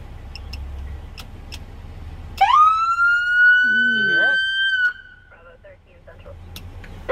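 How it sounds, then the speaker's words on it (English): A police car siren gives a single loud rising wail that holds for a couple of seconds and then cuts off, close by, with quiet talk around it. "that blue thing there, that's what makes the lights and the siren sound"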